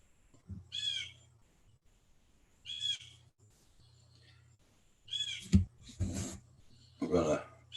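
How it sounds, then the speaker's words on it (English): A loud bird calls in short outdoor bursts, three or four separate harsh cries spaced a couple of seconds apart, with bumps and handling noise around the last ones. "There's that loud bird."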